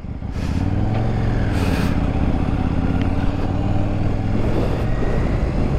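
A KTM 890 R Duke motorcycle engine hums steadily at close range, a constant low drone with slight variations in pitch and no pauses.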